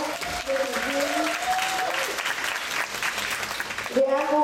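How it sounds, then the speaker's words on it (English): A full audience at a dance academy showcase bursts into sustained applause while someone talks over it, her voice carrying above the dense clapping. "I want you guys to give them a big applause."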